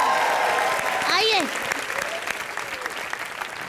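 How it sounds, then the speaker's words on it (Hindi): Audience applause on a live Hindi comedy show, a broad steady wash of clapping from a studio crowd with a voice briefly calling out over it near the start. "चलो तालियां बजाओ इसके लिए जोरदार"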